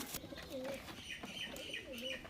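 Pigeons softly cooing in a breeding loft, with two or three rolling coo phrases and light chirps over a faint background, near and quiet.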